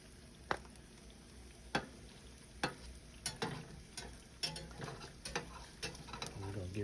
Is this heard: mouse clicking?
no